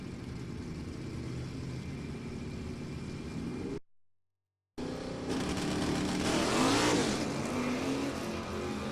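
Pontiac Firebird drag car with a clutch, an IROC, launching hard down a drag strip and spinning its tires at an NHRA event: loud roaring engine rising in pitch after a brief gap, sustained and close.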